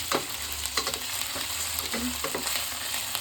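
Ingredients are stirred together in a hot pan, with a steady sizzle of frying broken by repeated spoon scrapes and clinks at close range.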